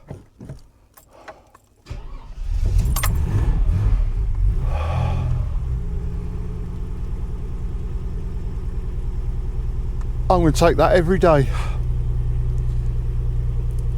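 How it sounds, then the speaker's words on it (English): A carburetor car engine that had not run for about three weeks, starting on a cold day: a few light clicks, then it catches and settles into a loud, steady idle, with one brief rev near the end. "A carburetor engine on a cold day like this, starting like that."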